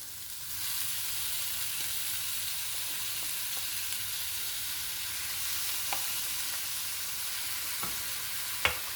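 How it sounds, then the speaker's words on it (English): Marinated prawns sauté in a hot pan with a continuous, even sizzle, and a few light utensil taps and clinks near the end; close, steady and free of talk. "Now we will be adding prawns into this, our marinated prawns."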